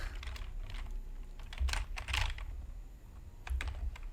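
Typing on a computer keyboard, quiet irregular clusters of close key clicks with short pauses between bursts, alone over a low background hum.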